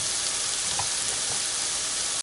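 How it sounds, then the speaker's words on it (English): Ground turkey browning in a pan gives a loud, continuous close-up sizzle with a dense crackling hiss and faint stirring underneath. "turkey meat browning in my pan"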